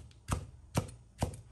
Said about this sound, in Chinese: 从中间片开，携刀切成菱形块